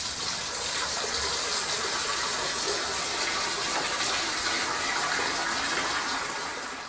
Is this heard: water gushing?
yes